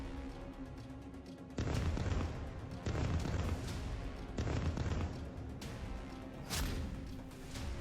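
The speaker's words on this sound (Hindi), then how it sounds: "हिजबुल्लाह के गढ़ साउथ बैरूत में इजराइल की भीषण बमबारी से" Israeli bombing in South Beirut, the Hezbollah stronghold, sends several heavy booms rolling through a low rumbling background, spaced a second or two apart, distant and fairly faint.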